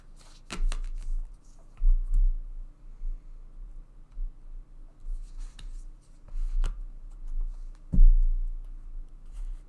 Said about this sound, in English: So I'm just going to take another couple of oracle cards.